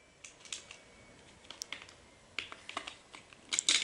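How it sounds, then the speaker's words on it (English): Typing of a short command on a computer keyboard: sparse, light key clicks near the mic, with a quick burst of taps at the end and no voices. "Here you have to type ipconfig"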